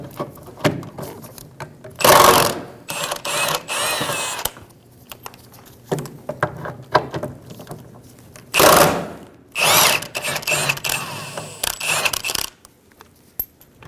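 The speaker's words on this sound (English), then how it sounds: "Remove the trailing arm bushing bolts using a 15mm socket." Power tool bursts spinning out trailing arm bushing bolts with a 15mm socket on a 2000-2007 Ford Focus, two loud long whirring runs with shorter buzzes and metallic clinks between, close by with no talking.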